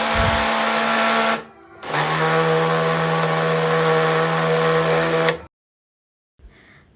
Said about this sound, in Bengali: তো আমি ব্লেন্ডারটা করে নিলাম